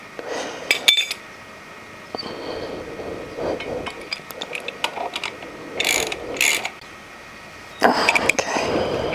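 Ratchet wrench tightening the bolts on a motorcycle after a brake change, close and fairly faint: irregular bursts of quick metallic clicking strokes separated by pauses, with light clinks of tools and parts in between.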